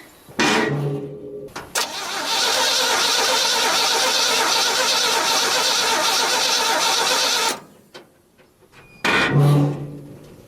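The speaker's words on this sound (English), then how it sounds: "Let me know if the distributor turns when I crank the engine over." A 1967 Chevy C10 pickup's starter cranks the engine over in a loud, steady, close-up whir for about five seconds without firing, framed by brief knocks and clunks before and after.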